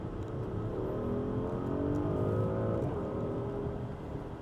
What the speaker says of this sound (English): one more acceleration before I let you guys go. We put it in Sport Response mode